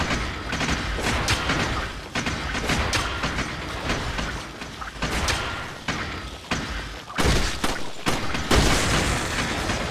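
Gunfire in the video game Resident Evil 4, a rapid series of loud booming shots and thuds over a dense, continuous game soundscape, with several heavy bursts toward the end.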